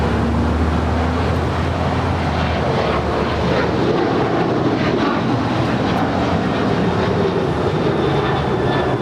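A jet airliner on its takeoff roll from runway 25 right at Los Angeles International Airport, a loud steady engine roar that holds throughout, with no voices.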